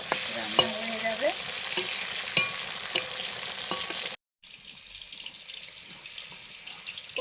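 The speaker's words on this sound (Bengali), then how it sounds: "পটলটা ভাজা হয়ে গেলে শাকটা ভাজা করে নিলে রান্না হয়ে যাবে।" Pointed gourd (potol) pieces fry and get stirred in a pan, steady close sizzle broken by scraping stirs and a brief tap-water run, a short silent gap, then softer continued frying.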